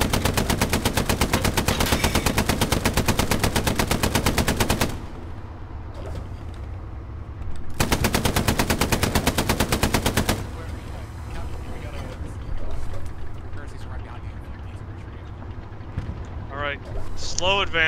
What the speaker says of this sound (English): Fire the MG.